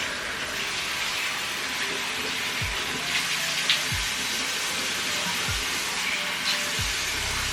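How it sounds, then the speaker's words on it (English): Lukewarm tap water runs and splashes steadily as a face is rinsed at a sink, a continuous hissing flow with a few faint splashes and no talking. "Now I'm gonna go ahead and rinse this off with lukewarm water."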